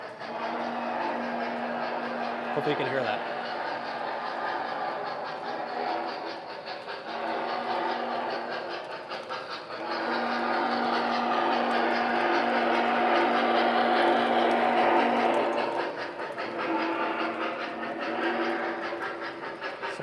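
A model 611 steam locomotive's whistle sounds in several sustained steady blasts over the low rumble of a running model train layout, with a brief spoken remark near the start.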